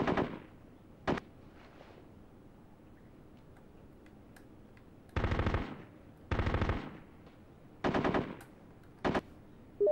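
Bursts of machine gun fire from the PS2 video game Full Spectrum Warrior, several short rattling volleys spaced through the scene, from a brief burst early to longer strings of rapid shots later, over a low game ambience with no talking.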